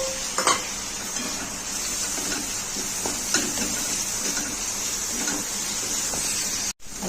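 Tomato, ginger and peanuts are stir-fried in a pan: a continuous sizzle is broken by several scraping, clattering stirring strokes, close and fairly loud, with a brief clunk near the end.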